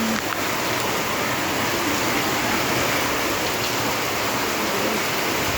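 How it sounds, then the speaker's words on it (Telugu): Heavy, wind-driven rain pours down outdoors around a house, a loud, dense and unbroken hiss with no gaps or voices. "బాగా విపరీతమైన వాన"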